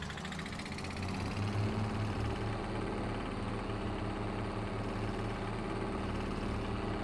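In the video game Farming Simulator 25, a vintage tractor engine runs at a steady low idle-like drone, with a continuous rumbling hum and no talk over it.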